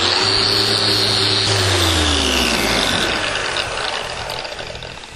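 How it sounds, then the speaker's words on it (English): A power tool whirs at high speed, finish-sanding a log hand rail with 120-grit sandpaper, loud and close, its pitch dropping as it winds down toward the end. "I'm going to go ahead and throw some 120 on there,"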